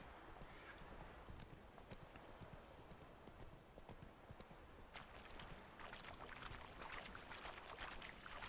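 Horse hooves clip-clopping at a trot in The Witcher 3 video game, a quick steady rhythm of close hoofbeats that grows slightly louder toward the end.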